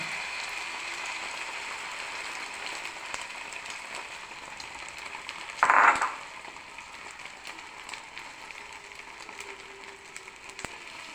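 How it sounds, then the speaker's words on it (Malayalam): Beaten egg frying in hot oil in a pan: a steady, even sizzle like light rain throughout, with a brief louder crackling burst partway through. "ഇത് മുട്ട പൊരിക്കുവാണ്"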